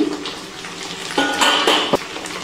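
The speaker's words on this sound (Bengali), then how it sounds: "3 থেকে 4 মিনিট পর ঢাকনাটা তুলে নিচ্ছি।" Lid lifted off a pan of cauliflower cooking on a low gas flame, heard as a metallic clatter and scrape with one sharp clink, over a soft background hiss.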